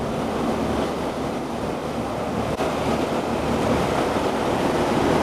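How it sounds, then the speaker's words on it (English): A small waterfall splashes inside a tunnel at Baños, a loud, continuous broadband roar of falling water with no voices. "I guess you can call this a little waterfall as well."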